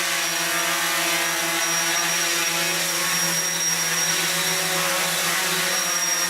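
An FPV 450 quadcopter takes off and hovers, its motors giving a steady, loud, even whine with no break from start to finish.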